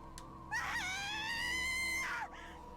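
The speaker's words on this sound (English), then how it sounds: "I guess we should listen to her scream" A woman's high, sustained scream from the video game Raging Loop, voiced by the character Mamiya, sounds for about two seconds over a low game background; no speech.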